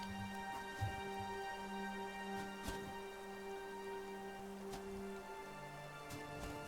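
Steady rain falls and patters on surfaces, with scattered individual drops and drips over a constant soft hiss, with no voices.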